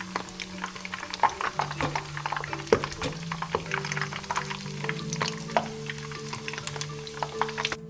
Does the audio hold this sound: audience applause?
no